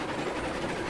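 A train wagon rolls in the video game Railroads Online, giving a brief, steady rumble with faint rail clatter for about a second.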